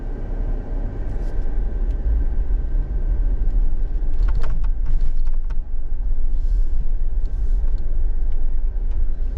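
A 2023 Jeep Wrangler High Tide rolls off-road over grass and gravel, its engine a low steady rumble beneath creaks, clunks and rattles from the body and suspension, with a cluster of knocks midway through.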